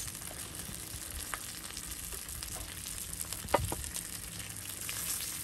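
Thick-cut bacon fries at a campsite with a steady crackling sizzle, broken by a few sharper pops and spits, close and fairly quiet, with no voices.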